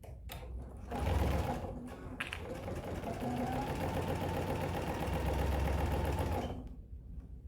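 A sewing machine stitches a basting seam on a crossbody bag, running in two steady bursts of rapid, even mechanical chatter that hold for several seconds each before stopping, close and moderately loud with no talk.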